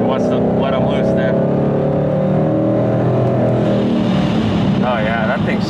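Supercharged 1000 hp Ford Mustang engine accelerating hard, a loud close roar with rising harmonic sweeps and supercharger whine throughout, with brief voices over it.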